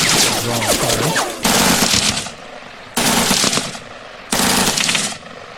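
Gunfire from the tactical war game Lock 'n Load Tactical: three loud, sustained bursts of rapid machine-gun fire, each lasting over a second and separated by short quiet gaps, with no talk.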